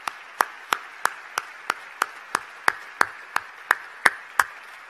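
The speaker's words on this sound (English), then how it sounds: "if we could offer him a round of applause in tribute to his service" Slow, evenly spaced claps ring out one by one as an offered round of applause in tribute at a formal government address, each sharp and distinct at a steady rhythm, with no voices.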